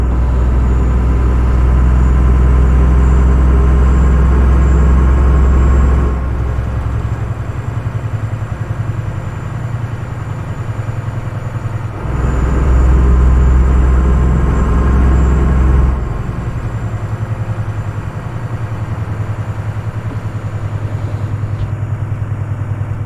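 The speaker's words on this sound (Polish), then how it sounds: "Strasznie mi się podoba właśnie ten turkot silnika, gdy nie dodaje się gazu." A V8 truck engine in Euro Truck Simulator 2 rumbles steadily off the throttle with a deep, loud, continuous drone, easing slightly between short shifts, with no talking.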